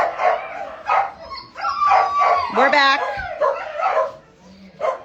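Shelter dogs give a high, wavering whine and short yips amid steady close-up human talk, with the whimpering rising briefly near the middle.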